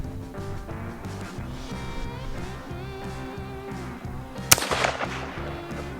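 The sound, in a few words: 22 magnum rifle gunshots while hunting cottontail rabbits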